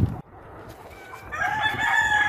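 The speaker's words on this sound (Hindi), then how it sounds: "हमारे व्यूवर्स को दिखाइए थोड़ा सा आपकी मुर्गी, हम देख रहे हैं यहाँ पे देसी पोल्ट्री आप कर रहे हैं" A rooster crows loudly and close on a free-range desi poultry farm, the drawn-out call building over the second half amid a busy backdrop of clucking chickens.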